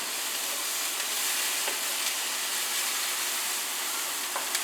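Onions sear in a pan with a steady, bright sizzling hiss that stays even and close throughout, with no voices.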